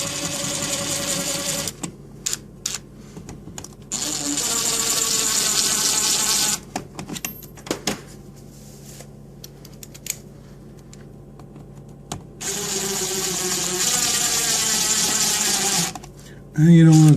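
A power screwdriver drives light switch screws back into a double switch box in several short whirring bursts, separated by quiet pauses and some handling noise.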